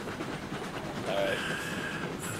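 A train runs steadily in the Railroads Online video game, giving a continuous rumble and rolling noise with a brief squeal of wheels partway through.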